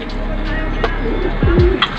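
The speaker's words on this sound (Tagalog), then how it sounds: "Ayun na mga kalapati, oh." Racing pigeons arrive at their loft after a race from Pasacao, Camarines Sur, with soft cooing and a brief flutter amid steady outdoor background hum and a nearby voice.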